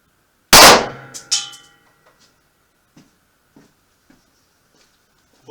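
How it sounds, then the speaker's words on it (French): A single loud, sharp shot from an Ekol Botan blank pistol firing a 9mm plastic-tipped round, close up. A quick metallic echo or clatter follows, then faint ticking and small handling sounds in near silence. "Premier tir avec le Botan."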